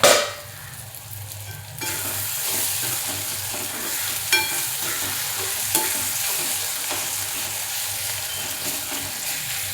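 Onion sautéing with ginger in a pan for a chana dal dish, a steady close sizzle with scraping stirs and a couple of clinks after a lid comes off, no voices.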